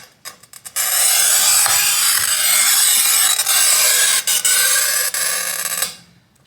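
A new circle cutter scoring a circle, making a loud, continuous gritty scraping rasp that starts after a couple of brief handling clicks, holds steady for about five seconds with slight dips, then fades out.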